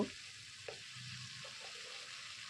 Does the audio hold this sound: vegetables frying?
yes